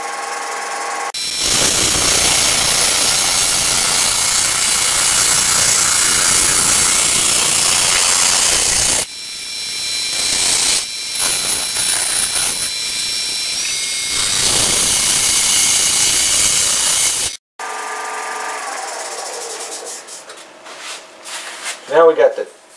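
Wood lathe spinning at about 1,100 RPM while a peppermill is turned, a loud close whirring and scraping of tool on wood in long bursts with brief breaks, ending in scattered handling noises.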